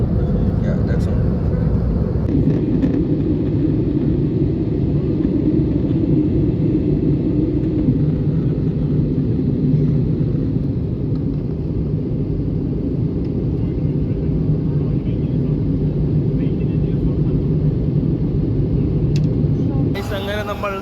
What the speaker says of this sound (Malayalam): നമ്മൾ വന്ന ഫ്ലൈറ്റ് നമ്മളിവിടെ ലാൻഡ് ചെയ്തു.